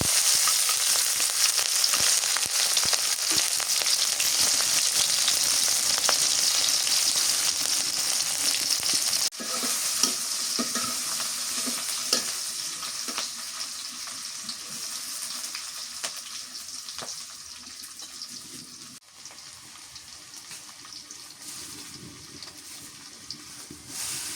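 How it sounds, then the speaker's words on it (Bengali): Cumin, onion and green chilies fry in hot oil with a loud, steady sizzle that holds for over twenty seconds, broken by a couple of faint stirring knocks and slowly easing off. "একটু জিরে দিয়ে দিই, পেঁয়াজ আর কাঁচামরিচ দিই।"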